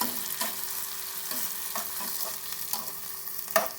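Chopped onions sautéing in a pan for egg idli upma, a steady soft sizzle broken by several scraping stirs of a spoon, close and fairly quiet with no voices.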